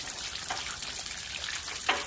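Very cold water runs out of a line in Canada, a soft steady hiss and rush with a few faint splashes, heard without talk.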